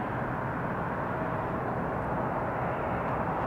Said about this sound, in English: getting that plane off the ground. I love the 747.